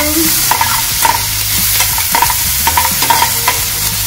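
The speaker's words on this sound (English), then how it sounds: "sometimes mix it until it gets golden color" Masala fries in a pan and turns golden while a utensil stirs and scrapes it in repeated strokes, close and loud over a continuous sizzle, with no voices.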